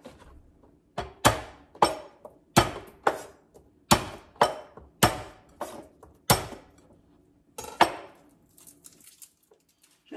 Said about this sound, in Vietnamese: 5 tép tỏi mình băm nó ra để mình xào.